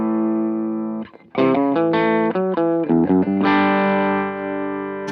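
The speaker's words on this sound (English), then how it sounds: "to where it's just a hint of distortion, to where you can start getting a little more hair" Electric guitar played through a Fender FET effects pedal with distortion, loud sustained chords and a run of choppy strummed notes, ringing out clearly with no talking.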